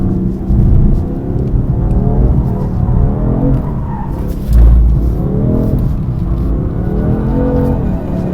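BMW M4 drifting on a circuit at Mettet, a loud, continuous engine roar with revving swells and rough, broadband tire squeal and skidding, a heavier low thump partway through, no voices over it.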